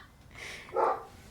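A single short dog bark rings out indoors at moderate loudness, a brief burst standing above a quiet room background with no talking.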